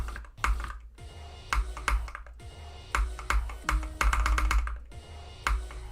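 Computer keyboard keys clatter rapidly during gameplay, uneven bursts of close, crisp clicks and taps with brief pauses between flurries.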